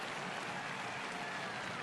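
Stadium crowd roaring at a CFL football game between the Toronto Argonauts and Winnipeg Blue Bombers, a dense, steady, distant-sounding cheer with no break.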